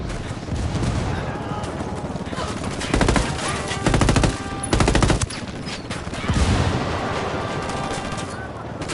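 Heavy automatic gunfire and booming explosions from incoming mortar rounds in the video game Ghost Recon, with dense bursts that swell around the middle and again near the end, with a voice talking over the barrage.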